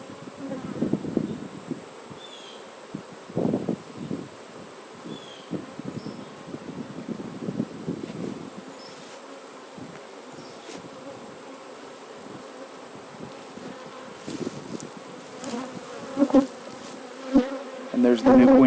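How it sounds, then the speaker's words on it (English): Honey bees buzzing over an opened hive during an inspection, a steady droning hum with individual bees whining past close to the listener in bursts, quieter stretches between, and no talk. "Stung it, and then the bees are trying to get it out."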